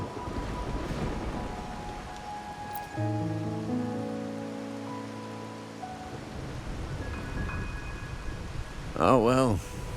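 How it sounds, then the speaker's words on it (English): Rain falls as a steady, fairly loud hiss in the Wuthering Waves video game, with sustained musical tones rising in the middle and a brief warbling sweep near the end. "My granddaughter told me Raguna's rain is a bad omen."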